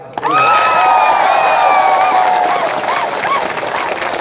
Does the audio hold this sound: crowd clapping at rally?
yes